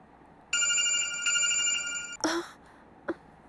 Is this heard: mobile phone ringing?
yes